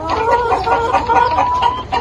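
Sonali chickens on a small poultry farm cluck and murmur continuously, a dense overlapping chorus of close, loud hen calls.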